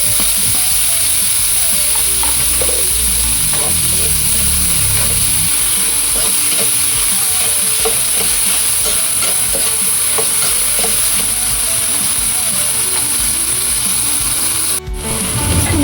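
Onion for sinigang frying in a pan while being stirred, a continuous loud scraping and rubbing of the utensil over a steady sizzle, with a sharp knock near the end and no voices.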